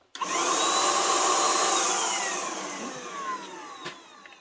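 A Grand cordless paint sprayer runs with a loud, steady motor whine and airy hiss that starts abruptly, holds for several seconds and then slowly fades, close up with no speech.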